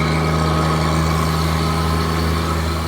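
A 2016 Peterbilt 337 utility crane truck engine idles steadily and evenly up close during crane operation, a constant low drone with a smooth, unbroken hum and no voices.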